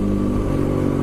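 A loud motorcycle engine rumbling and revving up close, its deep exhaust droning steadily throughout.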